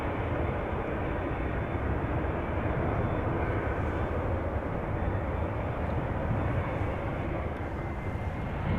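A Singapore Airlines Boeing 787 Dreamliner takes off from runway 24 at Amsterdam Schiphol Airport, making a loud, steady broadband jet roar that holds at an even level throughout with no break.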